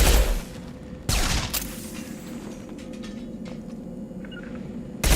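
Gunfire in the Mass Effect 2 video game: two sharp loud bursts of shots open and close, with a steady mechanical rumble and scattered clicks and creaks in between, no talking.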